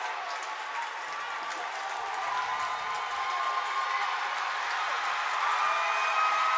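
Spectators at a college men's basketball game keep up a continuous wash of cheering and clapping, swelling slightly louder toward the end.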